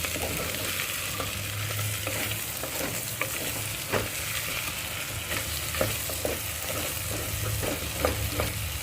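Sliced onions sizzle steadily in ghee in a pan, a dense continuous frying hiss with occasional soft stirring clicks and scrapes, no talking.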